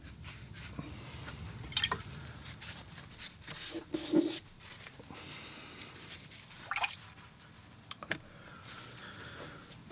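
Brush splashing water and paint across paper while working on a watercolor of a sailboat, giving scattered soft drips and taps over a quiet background.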